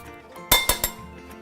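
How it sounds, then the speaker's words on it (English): Three quick metallic clinks of a whisk against a bowl while an orzo salad with lime zest gets whisked up, bright and close, with quiet moments before and after. "give that a little whisk up"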